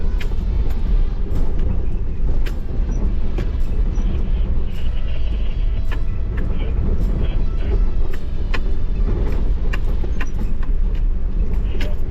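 A Nissan Patrol 4WD with lowered tyre pressures grinds steadily along a rocky outback track, its engine and tyre rumble loud and unbroken inside the cabin, with small knocks and rattles over the rough surface.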